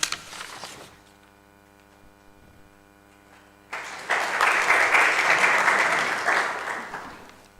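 A congregation claps during a Unitarian Universalist church service: brief applause at the start fades into a quiet, humming room, then a louder burst of clapping swells in and continues to the end.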